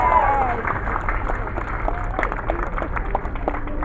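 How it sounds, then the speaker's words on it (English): A crowd applauds steadily in a large room, a dense wash of clapping with a few voices mixed in. "Give yourselves a huge round of applause for being so wonderful."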